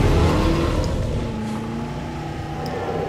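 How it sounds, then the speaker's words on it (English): A car in the video game Jurassic World Evolution pulls away in a steady engine drone with a low, sustained hum that holds near and even throughout, no voices over it. "Right, we'll take the car back."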